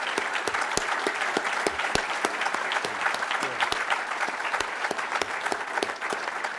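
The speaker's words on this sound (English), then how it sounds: "we can go ahead and applaud" Dense, sustained audience applause fills a lecture hall at a public conversation event, with many hands clapping close together and individual sharp claps standing out, steady from start to finish.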